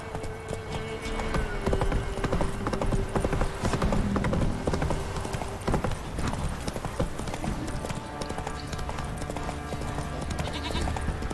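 Hooves of the horse Roach in The Witcher 3 galloping with a steady, dense clip-clop rhythm, mixed with game music and ambient sounds throughout.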